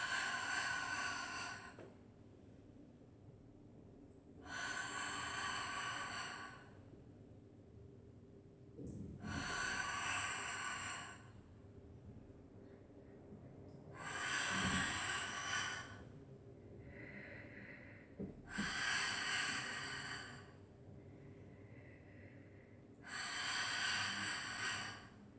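Sharp, rhythmic breathing during a Pilates hundred exercise comes in long alternating bursts of quick pulsed exhales and inhales, close and loud against a quiet room with no talking.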